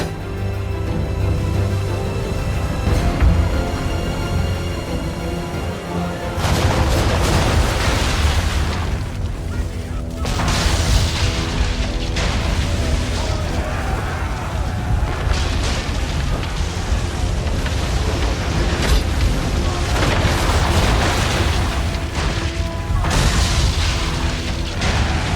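Heavy cannon booms and blasts in an Assassin's Creed III storm scene roll over a constant roar of wind and rain, with voices faintly mixed in beneath the storm.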